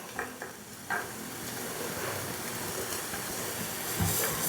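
Ginger and garlic are sautéed in a pan for papaitan, a steady close sizzle and hiss with a few scattered spatula knocks and scrapes.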